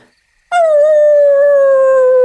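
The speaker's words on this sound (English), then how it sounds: "as the wolves begin to howl once again" A single wolf howl rises sharply out of near silence, then holds as one long, loud, slowly falling tone with clear overtones, heard close and alone.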